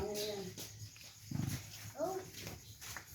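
A dog whimpers and makes soft whining sounds up close, mixed with people talking.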